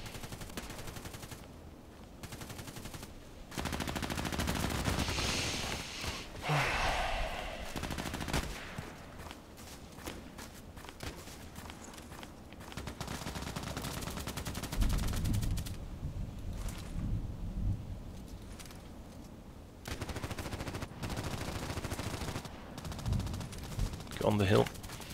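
Shooter video game gunfire, including sniper-style shots, comes as repeated loud reports and bursts spread through the stretch, and someone talks at times between them.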